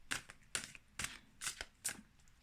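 Tarot cards shuffled in a series of about five quick riffling bursts roughly half a second apart, crisp and close, with no voices.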